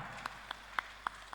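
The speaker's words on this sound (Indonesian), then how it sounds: "Tepuk tangan." Audience at an HKBP church gathering clapping in a sparse, slow rhythm: five distinct hand claps spaced about a quarter second apart, faint and slightly distant over a quiet room.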